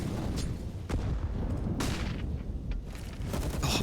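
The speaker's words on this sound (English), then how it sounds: "G2 get ahead of the early nades" Muffled grenade blasts and bursts of fire during a CS:GO match on the Vertigo map between Virtus.pro and G2, a steady roar of in-game noise with several sharp thumps spread across the few seconds.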